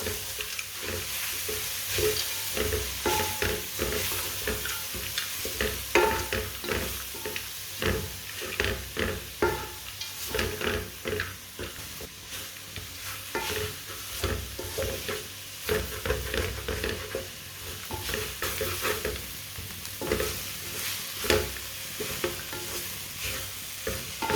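A carrot and walnut dish with coconut is stirred and fried in a pan over low heat, with continuous close sizzling broken by repeated scraping strokes of a spoon throughout.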